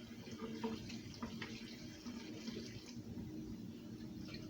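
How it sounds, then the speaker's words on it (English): Tap water running steadily over lettuce being washed in a kitchen sink, a close, continuous splashing stream with small irregular spatters and no talking. "I'll just take some lettuce and wash it real good."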